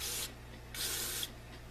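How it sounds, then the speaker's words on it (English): Aerosol gun scrubber sprayed in two long bursts onto a handgun during cleaning, a close, steady hiss with a short pause between, over a faint low hum. "Spray that all out."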